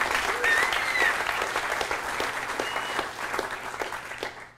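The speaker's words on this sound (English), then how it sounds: "So a big round of applause for Michelle, who helped me a lot doing that" Audience applause at a lightning talks event: a dense burst of clapping from a room full of people that stays steady, then thins and fades out near the end, with no voices on top.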